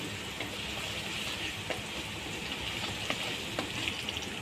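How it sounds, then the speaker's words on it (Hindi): Finely chopped green chillies and ginger fry lightly in a pan with a soft, even sizzle broken by occasional small pops and faint stirring. "इसको हल्का सा हम भून लेंगे।"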